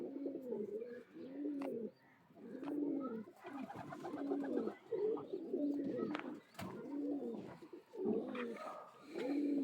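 A pair of fancy Madrazi pigeons coo nearby, making a steady run of rhythmic, throaty coos repeated about a dozen times, loud and close, with no speech.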